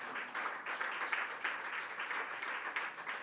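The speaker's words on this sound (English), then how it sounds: "Applause." Audience at a Google announcement on bail reform applauds in a short, fairly quiet burst of pulsing clapping heard from the room.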